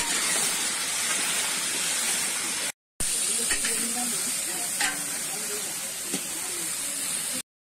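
Potatoes frying in a pan for chicken, a steady loud sizzle and hiss of hot oil with occasional stirring scrapes, briefly cut off by a short gap before resuming.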